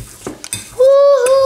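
A fork or spoon mashes a microwave-softened avocado for guacamole in a bowl, giving a few short scraping, stirring knocks followed by a steady squeaky drone.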